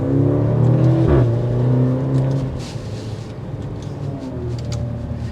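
A 2023 Maserati Grecale Modena with a turbo engine pulls away and accelerates, its engine note rising and then settling into a steady drone with faint road noise, with no one speaking.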